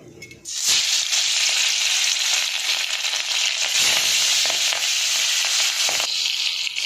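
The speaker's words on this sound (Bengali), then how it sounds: "আমি কড়াইতে তেল দিয়ে দিয়েছি, এবার মাছগুলো ভেজে নেবো" Fish rubbed with salt and turmeric fries in hot oil in a wok, giving a loud, steady, dense sizzle that starts abruptly after a brief pause and carries on with crackles throughout.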